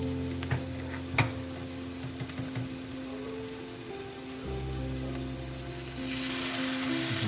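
Shredded beef for Korean BBQ fries in a hot pan with a steady sizzle. A few sharp clicks of stirring cut through it, and the hiss brightens toward the end.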